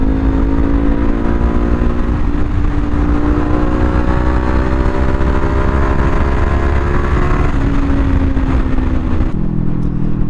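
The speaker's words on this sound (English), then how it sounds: "The sound of this bike is so good." A 2025 Kawasaki Ninja 500 being ridden around town: a steady, loud engine drone with rising and shifting pitch as it accelerates, partly buried under heavy wind rush, which drops away near the end.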